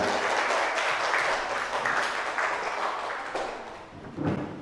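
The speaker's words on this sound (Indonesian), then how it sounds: "Tepuk tangan untuk kelompok 3." A classroom of students applauds a winning group, a steady wash of many hands clapping at once that eases slightly before a brief final swell.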